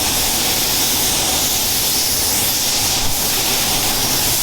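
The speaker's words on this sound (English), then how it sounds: "So I've got the wash primer loaded up in my gun." A spray gun lays wash primer onto bare metal in a steady, loud, continuous hiss that holds even from start to finish, with no voices.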